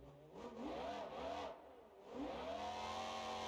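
A V12 engine in a BeamNG.drive monster truck revs up and down in repeated rising and falling surges, loud and close, with no talking.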